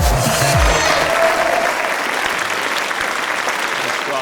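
An audience applauds to welcome guest Alain Juillet at a talk show, loud dense clapping held steady from start to end, with a brief louder swell early on.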